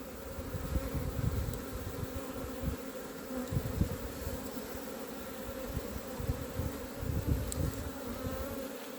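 Honey bees buzz densely around a hive in an apiary, where a strong colony is coming up to syrup feed; a steady, close swarm hum with individual bees darting past, no talk.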